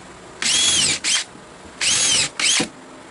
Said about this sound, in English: And we're gonna pre-drill for that too.